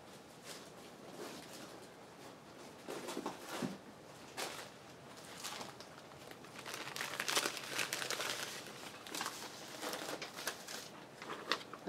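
Old scrap paper is crumpled and crinkled by hand for a fabric-covered envelope craft, producing irregular crackling bursts that grow busier and louder toward the end, with no speech.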